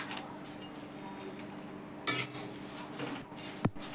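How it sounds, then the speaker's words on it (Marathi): Poha dry-roasting in a pot and a kadhai, heard as scattered metallic clinks and scrapes of a utensil against the cookware, with a brief rustle of flakes and one sharp knock, close and fairly quiet. "पातेल्यात आणि ह्या कढईमध्ये दोन्हीकडं मी पोहे भाजायला घेणार आहे."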